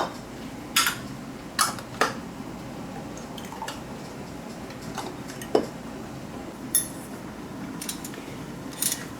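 Metal lids are set onto glass canning jars of salsa verde before water bath canning, giving several light, scattered metallic clicks and taps over a quiet, steady background with no voices.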